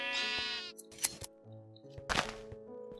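Sheep in the Minecraft video game bleat several times in close succession, loud and near, with brief game thunks between the calls and no talk over them.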